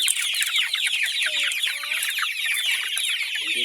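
Several chickens cluck and chatter continuously, close by, with a busy, overlapping flock sound throughout.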